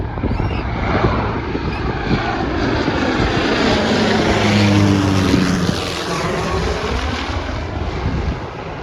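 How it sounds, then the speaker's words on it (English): A small Rex Airlines regional propeller plane drones loudly and steadily as it passes, its engine tone shifting and sweeping downward over several seconds with nothing else heard. "You can see here, this is a plane. It's quite a small one."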